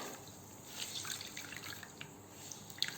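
A face towel wrung out over a basin of hot water gives faint, scattered drips and soft trickles of water falling back into the basin, quiet and close with no voices.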